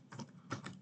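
A few soft keystrokes on a computer keyboard at a terminal, coming in two small clusters, quiet and close.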